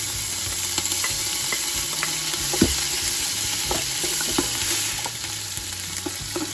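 Ginger and garlic sizzle in hot cooking oil with an onion, a steady close frying hiss broken by scattered pops and the scrape of stirring, with no talk.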